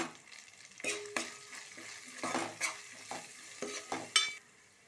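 Ginger garlic paste and onion fry in a pan, with a steady sizzle broken by repeated scraping stirs of a spoon against the metal, close and clear, with no voices.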